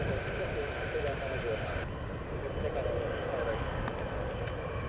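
A heavy jet airliner, a Boeing 777-300, at Toronto Pearson Airport at night, giving off a steady, distant engine roar while a voice talks over it.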